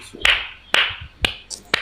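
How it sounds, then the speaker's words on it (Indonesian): A small audience at an Indonesian religious talk gives about five sharp, evenly spaced claps, each a crisp isolated slap with short gaps between. Near and fairly loud, with no voices. "Tepuk tangan dulu."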